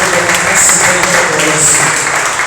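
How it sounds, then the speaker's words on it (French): A church congregation applauding and acclaiming during a prayer service, loud, dense and sustained clapping mixed with shouted voices filling the room. "On commence à célébrer Dieu en acclamant pour sa gloire et au nom de Jésus."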